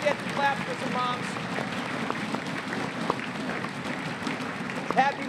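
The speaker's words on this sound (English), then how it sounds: "They need a round of applause. There we go. Let's get the claps for some moms." An audience at a national math competition applauds mothers standing in the hall, a steady wash of clapping at moderate volume with some voices underneath.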